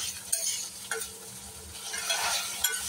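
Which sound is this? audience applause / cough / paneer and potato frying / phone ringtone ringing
paneer and potato frying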